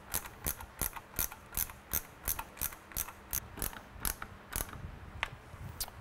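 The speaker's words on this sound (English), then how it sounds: "So I'll go ahead, get these two screws tightened back down." Screws are tightened on a Kawasaki motorcycle headlight fixture fitted with a J.W. Speaker Model 8700 Evolution lamp, giving a close, crisp ratcheting click repeated about fifteen times in an even rhythm.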